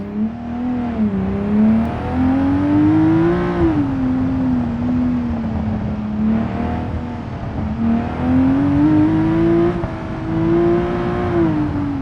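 Loud car engine drone from inside a doorless, windowless vehicle in BeamNG, pitch rising and falling as it revs and shifts through gears repeatedly.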